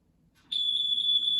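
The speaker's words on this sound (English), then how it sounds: "That was the smoke alarm." A household smoke alarm gives one sustained, piercing high-pitched electronic tone that starts abruptly and holds steady, loud and close, with no one talking.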